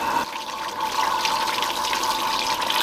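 Running water rinses the bloody foam off blanched beef spine, a steady, fairly loud rush like a tap stream spattering over meat and bowl, continuous and alone for about three seconds.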